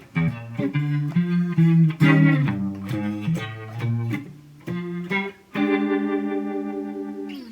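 Electric guitar playing sustained chords through a swirling, warbling Leslie rotary speaker effect from a pedalboard, bright and close with no talking.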